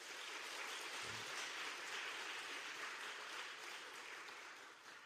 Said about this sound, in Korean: 우리 한번 박수해보죠. 박수.